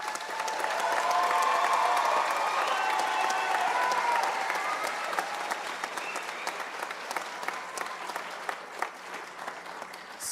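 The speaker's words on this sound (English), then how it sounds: "Please give these students one more round of applause." A graduation ceremony audience claps in sustained applause, swelling early and then thinning into scattered, tapering claps over about ten seconds.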